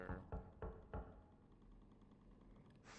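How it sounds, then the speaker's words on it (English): Knocking on a door in the underground horror game MOLE: four heavy, fairly loud thuds in an uneven rhythm over low droning ambience, then quiet rumble and a brief hiss at the end. "something knocked on the door and then left"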